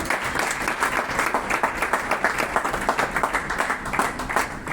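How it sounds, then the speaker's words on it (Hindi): Steady applause fills a Punjabi community welcome gathering, many hands clapping loudly and continuously for the full stretch with no voices over it. "तालियां निलुबरी जी का स्वागत है"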